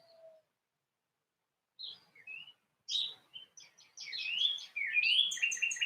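Birdsong outdoors: a few scattered chirps at first, then several birds singing together more continuously, bright and fairly close.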